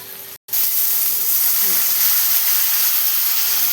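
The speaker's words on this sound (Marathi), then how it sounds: "एक ग्लास आपण पाणी टाकून घेऊ" A continuous loud hiss of steam as a glass of water is poured into a hot pan of cut potatoes, broken by a brief silent gap near the start, steady and close.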